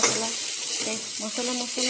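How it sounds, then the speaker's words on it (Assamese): Spices sizzle steadily in hot oil with a bright, crackling hiss, and a few light scrapes of stirring come through close by. "মছলাখিনি ভাজা খাব লাগিব, সেইকাৰণে মছলাবোৰ আগতেই দি দিছোঁ।"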